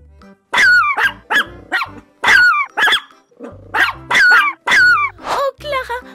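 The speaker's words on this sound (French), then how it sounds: "Clara, regarde ces chiens. Les pauvres, ils sont abandonnés." Abandoned dogs bark in repeated sharp bursts with some growling, several loud close barks spaced through the stretch, largely alone in a cartoon-style scene.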